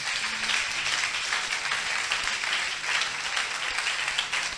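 A church congregation at a prayer service applauds in a dense, steady wash of many hands clapping, loud and sustained throughout, with no clear voices on top.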